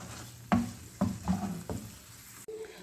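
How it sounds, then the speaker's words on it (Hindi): Chicken cooks in a covered pan with a low sizzle, while a few sharp clanks and scrapes of a utensil or lid against the pan ring out at intervals, close by and with no talk. "उसके ऊपर ढकना दे के तकरीबन इसको मैं 3 से 4 मिनट के लिए कुक होने के लिए छोड़ देती हूँ, ताकि अच्छे तरीके से हमारा चिकन कुक हो जाए"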